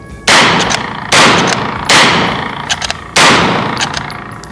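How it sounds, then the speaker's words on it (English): Four loud, sharp gunshots from a lever-action rifle firing 124 grain AAC ammunition, spaced about a second apart, each ringing out with a decaying echo and faint mechanical clinks of the action between shots. "we're shooting 124 grain AAC ammunition"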